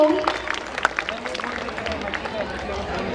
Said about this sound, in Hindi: मैं अपने ऑडियंस से एक बार इनके लिए जोरदार तालियां बजाने के लिए अनुरोध करती हूँ